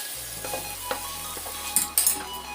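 Roasted cashews added to a hot kadai while making ash gourd halwa, giving a soft sizzle with light stirring scrapes and a few clinks, faint and close.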